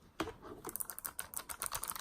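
Blue-switch clicks from a thin Anidees portable mechanical keyboard being typed on, a quick run of close, crisp keystrokes following one isolated press, with no voices.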